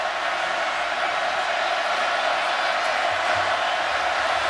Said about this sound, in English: Crowd getting louder now.